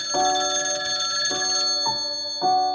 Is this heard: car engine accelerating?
no